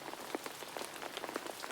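Rain falls outside in a soft, steady patter, with scattered distinct drops tapping on a surface, quiet and close, with no voices.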